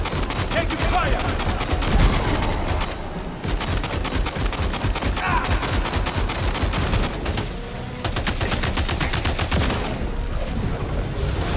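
Rapid, sustained gunfire in Death Stranding 2, loud and nearly continuous with dense crackling bursts and brief gaps, with a voice occasionally heard under the shooting.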